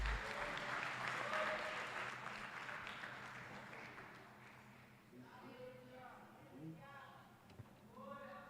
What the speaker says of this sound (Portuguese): Agradeço aí a oportunidade das palmas bem alegres para Jesus.